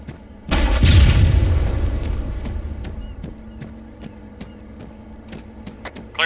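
An anti-tank rocket fired at a T-72 tank in a video game, a sudden loud booming blast that rolls off into a rumbling decay, followed by scattered faint clicks and a low hum.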